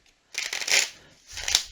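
Tarot cards riffle and slap together in two quick bursts of crisp, papery shuffling, close by with no talking.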